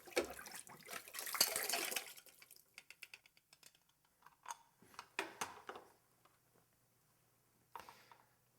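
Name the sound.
tap water running while rinsing out a glass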